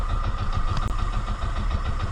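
A boat engine runs steadily and loud at close range on a reef during night spearfishing in the Philippines, a continuous mid-pitched chugging hum with no voices.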